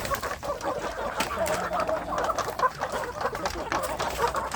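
Free-range village chickens and roosters cluck steadily and fairly close in an outdoor farmyard, with many overlapping calls forming a continuous busy flock chatter and no talk.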